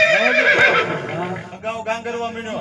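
A horse neighs loudly and close by in a long, wavering whinny that rises and then breaks into shorter bursts, with people talking around it.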